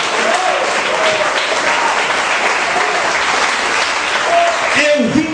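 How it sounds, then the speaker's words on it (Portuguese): A worship congregation bursts into loud, dense applause that holds steady throughout, with faint singing or vocal tones woven under the clapping. "Aplauda o Senhor e dá glória a Deus"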